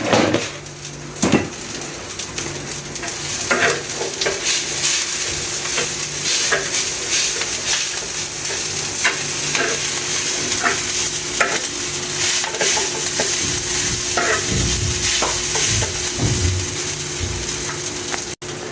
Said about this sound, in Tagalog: Luto na yung ating fried rice.